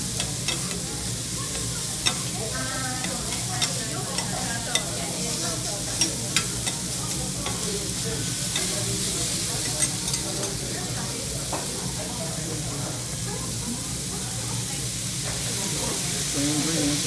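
Monjayaki batter with pork and other ingredients stirred and sizzling on a hot griddle at a Tsukishima restaurant in Tokyo, a loud continuous frying hiss with scraping stirs and occasional clacks of spatula, with faint voices in the background.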